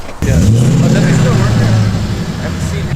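A Mercedes with a swapped-in engine and a custom Magnaflow exhaust starts and revs, a loud deep rumble rising after a brief quiet start and holding steady near the microphone, with people talking over it.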